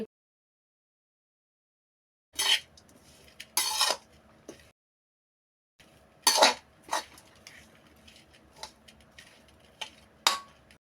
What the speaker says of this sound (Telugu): ఇప్పుడు పెద్ద కడాయికి మార్చుకున్నానండి ముందే ఏం పెట్టుకున్న చిక్కుడుకాయ ఇప్పుడు అన్నంలో వేసుకొని కలుపుకుంటున్నాను